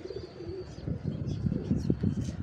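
Rooftop pigeons coo in low, repeated throaty pulses, close by and moderately loud, with a faint high tone early and scattered chirps over steady background noise.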